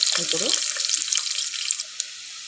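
Onions and green chillies dropped into hot oil for bendakaya pulusu, giving a bright, steady sizzle that starts loud and settles into a fainter hiss, with a short clatter at the start.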